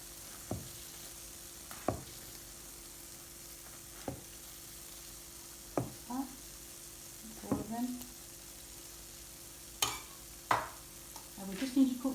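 Lentil fritters for dahi barhe fry until golden brown, giving a soft, quiet sizzle. Sharp clicks and taps from a utensil against the pan break in at irregular intervals.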